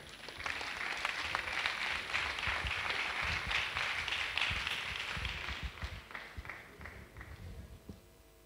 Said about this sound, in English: let's welcome with a round of applause Mr. Steven Beatson from Security Shade Limit